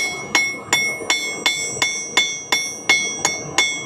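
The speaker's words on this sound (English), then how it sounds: "And then I can shape it with the hammer." At an overland event, a blacksmith hammers hot metal at a forge to round off a taper, striking about ten sharp, ringing blows at a steady pace, each with a bright metallic ring that decays quickly.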